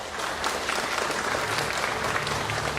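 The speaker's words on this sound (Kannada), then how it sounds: "ಬರ್ಲಿ ಅವರಿಗೆ ಜೋರಾದ ಚಪ್ಪಾಳೆ." Loud, sustained applause from the audience at the Varshada Kannadiga 2026 event, honouring a lake-conservation worker, a steady wash of many hands clapping together without pause.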